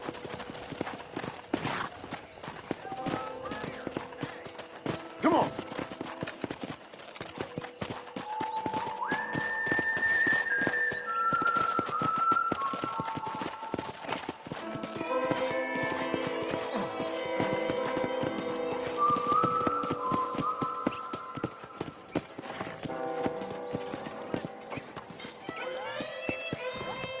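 Horse hooves gallop in Red Dead Redemption, a steady rapid clip-clop rhythm running throughout beneath a melodic whistled or string music line, with occasional voices.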